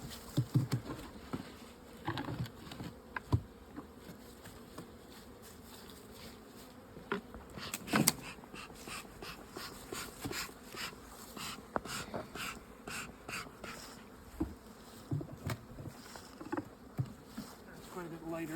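Honeybees buzz steadily around an open beehive on a cold morning, a continuous insect drone with occasional louder passes close by and faint handling knocks.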